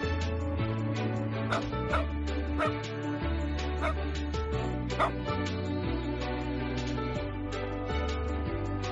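Dogs bark in a string of short, sharp yips and bow-wows, repeated at an uneven pace over steady background music, fairly close and moderately loud.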